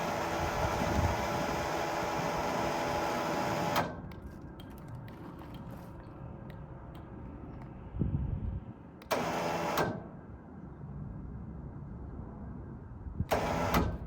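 A winch on a utility trailer spooling in rope, a loud whirring motor run that stops, then two shorter bursts of the same grinding whine separated by quieter pauses.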